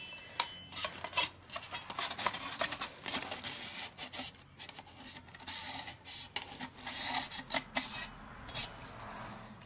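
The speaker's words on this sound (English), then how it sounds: "Other people don't scrape, I scrape." Behr paint sample cards being scraped, a run of close, rough rasping strokes in uneven bursts with short pauses between them, fairly loud and with no talk over them.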